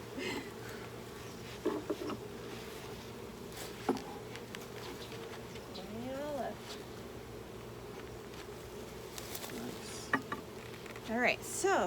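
Honeybees buzzing near and around during an urban hive inspection, with individual bees droning past in short swells, a soft rustling background and quiet speech at times.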